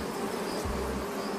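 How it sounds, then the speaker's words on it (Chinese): Honeybees hum in a steady, soft buzz near hives at an apiary, a brief continuous drone with no voices. "看这蜜蜂"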